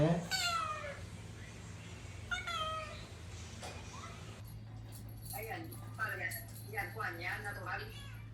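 A cat meows close by in a series of short, rising and falling cries, several separated by pauses, over a faint steady indoor hum.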